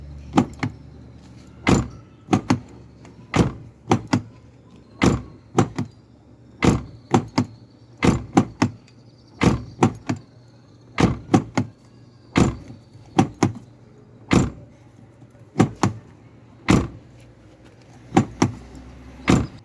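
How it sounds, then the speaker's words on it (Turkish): Renault Megane 2 car door being worked repeatedly, a series of sharp metallic clunks and latch clicks in a fairly regular rhythm, close and loud, with no speech. "Şimdi kapıyı açalım."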